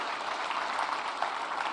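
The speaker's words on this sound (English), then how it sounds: "we really have to give Secretary Cristina a round of applause" An audience at a tourism industry reception claps for a government secretary, with brief, steady, dense applause filling the room at a moderate distance.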